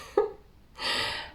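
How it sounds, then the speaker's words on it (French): A snoring cat indoors: a short, quiet snort followed by a soft, breathy rasp of an inhaled snore, heard up close with no voices. "j'ai un chat qui ronfle"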